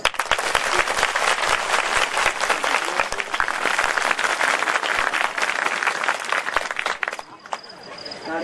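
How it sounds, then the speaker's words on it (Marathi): Audience at a devotional kirtan performance claps hands steadily, a dense continuous wave of applause filling the space, easing off near the end. "माता भगिनी एकदा वाजवा बरं टाळ्या"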